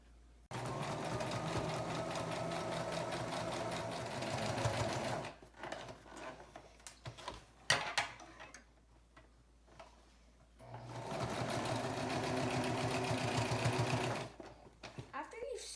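A sewing machine stitches along the folded edges of lining fabric for a face mask, running in two long steady bursts separated by a quieter pause with clicks and handling sounds, with a voice heard at times.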